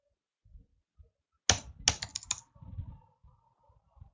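Code being typed on a computer keyboard comes through as a short close burst of crisp key clicks, a handful of quick taps followed by softer keystrokes and faint thumps.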